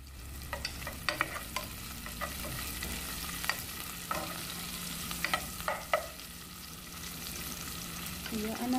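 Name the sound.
sautéing onion in a pan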